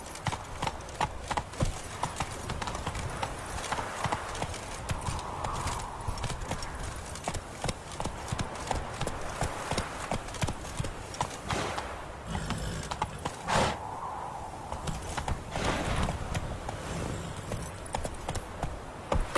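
Rapid clip-clop of a horse's hooves galloping in The Witcher 3 video game, a steady drumming gait running throughout, loud and near, with a few soft vocal sounds mixed in.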